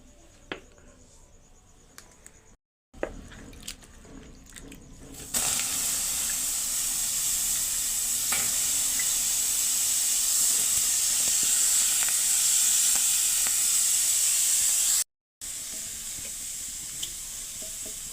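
Bitter gourd roasts on a wood-fired clay village stove, giving a steady close hiss and sizzle that builds after a quieter start and holds with little change, broken by two brief dropouts.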